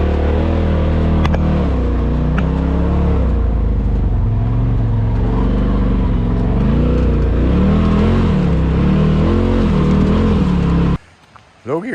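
A 2022 Turbo R side-by-side engine revs in low gear, a loud steady droning roar that rises and falls in pitch for most of the clip before cutting off near the end, with a voice talking over it.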